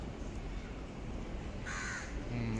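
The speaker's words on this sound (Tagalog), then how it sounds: "May uwak." A crow caws in an urban setting around Merdeka Square in Kuala Lumpur, a few harsh calls near the end over steady traffic-like background noise.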